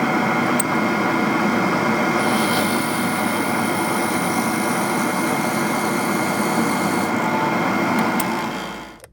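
A drill bit bores into a bocote wood pen body with a loud, continuous whirring machine drone that holds steady and then winds down at the end.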